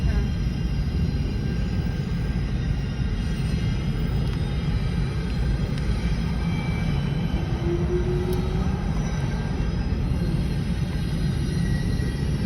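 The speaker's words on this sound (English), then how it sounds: "Oh wait, it's a Canadian National Freight train." Canadian National freight train led by an SD70M-2 locomotive, passing slowly as a steady broad rumble of rolling wagons, heard from inside a vehicle.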